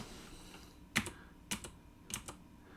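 Three separate keystroke clusters tap on a computer keyboard at a quiet desk, each a sharp click with a quick follow-up tap, spaced about half a second apart and close to the mic.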